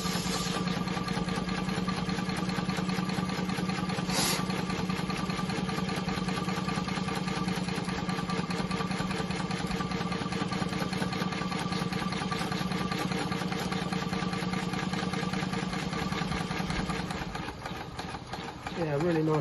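A Maxitrak Ruby model steam locomotive runs on test with a steady, continuous mechanical hum and chuff held at an even level throughout, close by, fading slightly near the end.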